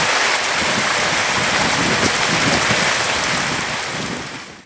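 Steady rain falls at night, a dense, even hiss that stays loud throughout and eases slightly at the very end, with no voices.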